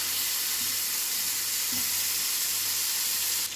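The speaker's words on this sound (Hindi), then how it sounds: "मछली को ऐसे फ्लैट करके तवे के ऊपर डालिएगा ताकि हर एक मछली अच्छे से फ्राई हो" Small fish sizzle steadily in hot oil on a flat tava griddle for an Odia paturi, a dense continuous frying hiss close by with a couple of faint clicks and no voices.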